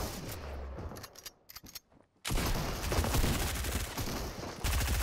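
SMG fire in Fortnite crackles in loud, rapid bursts, broken by a brief lull before sustained automatic shooting resumes.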